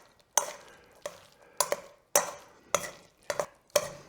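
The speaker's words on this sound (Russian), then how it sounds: "Продолжаем мешать." Meat Olivier salad being stirred in a large bowl, with about seven distinct wet, squelching spoon strokes in a steady rhythm, close and clear, with no talking.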